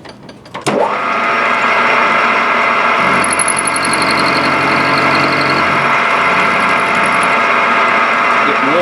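A homemade engraving hand-piece part being machined, a loud steady whirring cut with a high ringing chatter that persists for several seconds before easing, close and continuous after a brief start-up.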